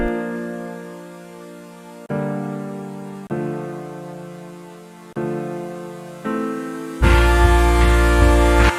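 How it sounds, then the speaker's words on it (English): Lush sustained chords from a piano layered with two synths in the outro of a song, changing about every one to two seconds, swelling brighter and fuller in the final stretch, with no voices. "we have this beautiful chord progression being played by a piano and 2 different synths."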